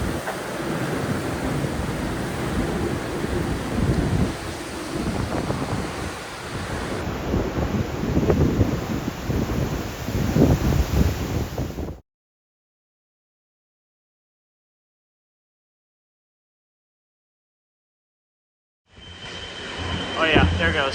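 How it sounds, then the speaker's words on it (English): Hurricane Milton's wind roars in a big gust near Sarasota/Bradenton, Florida, a loud, broad rushing blast buffeting the microphone near a tower, then cutting out to silence before the roar resumes. "here comes a big gust. Listen to that. It sounds like a jet engine on that tower there behind me."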